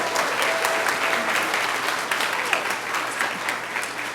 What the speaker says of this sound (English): Let's give Miss Wallace and her 5th grade class a great round of applause.